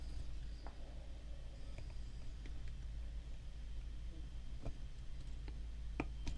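An iPhone 12 screen connector snapping into place during reassembly: a few small, sharp clicks, faint and close, spaced seconds apart over a low steady hum.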